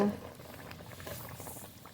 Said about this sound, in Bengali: ঝোল খুব ভালো করে ফুটিয়ে নিয়েছি ভেজে রাখা পাবদা মাছ দিয়ে দেবো